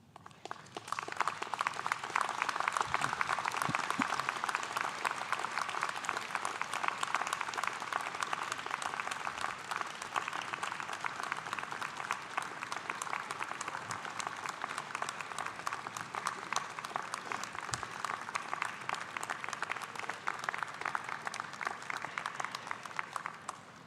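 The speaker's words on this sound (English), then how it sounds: "stand, look around you and behind you, and applaud all who have helped you to get to this point." A large convocation audience applauds continuously in a big hall for over twenty seconds, a dense, steady roar of clapping that swells early and holds without any talk over it.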